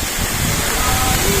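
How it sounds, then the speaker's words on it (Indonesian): Mada Kalipura waterfall pours down in a steady, dense roar of rushing water, loud and continuous throughout with no pauses. "Pemandangan dari air terjun Mada Kalipura."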